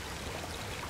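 Water flows steadily in the underwater game Subnautica Below Zero, a dense continuous rushing wash with no breaks, alone and fairly loud.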